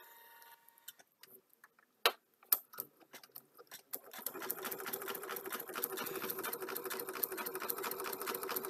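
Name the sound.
sewing machine running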